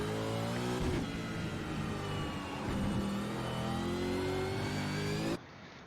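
A V8 Supercar engine in a racing simulator pulls under throttle around the Okayama circuit. Its buzzy, harmonic note holds, then climbs through the revs before cutting off abruptly near the end, loud and close.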